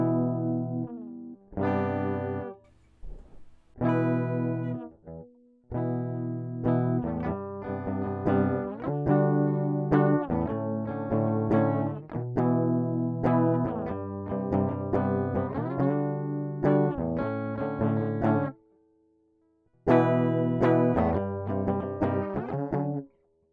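Electric guitar chords played through an effects chain with distortion and chorus, strummed in a steady series of ringing chords with a brief gap near the end, loud and close with no talking.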